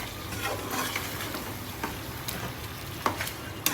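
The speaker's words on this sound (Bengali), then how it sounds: "আমি ভালোভাবে আবারও নেড়ে দিচ্ছি।" Beef sizzles steadily in a pan while being stirred with roasted, ground garam masala, with scraping strokes and a couple of sharper clicks near the end and no voices.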